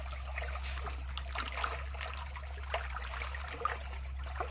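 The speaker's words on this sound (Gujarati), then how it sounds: "પાણી નો અવાજ આવે" Running water flows steadily through a village field, a continuous trickling and gurgling rush with occasional small splashes, over a constant low hum.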